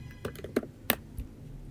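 Several light keystrokes on a computer keyboard, typed at a desktop into a web browser, sound close and quiet as a short, irregular burst of clicks.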